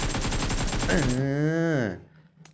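Rapid automatic gunfire in PUBG Mobile rattles off in a quick regular burst, then stops as a voice rises and falls with a drawn-out exclamation.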